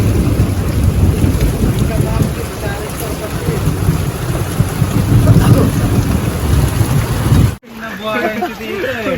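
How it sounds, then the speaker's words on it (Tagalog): Heavy rain pours down during a storm at a countryside hut, a loud, constant wash of drops roaring over everything, with voices talking under it before a sudden cut. "Lakas ng ulan, grabe."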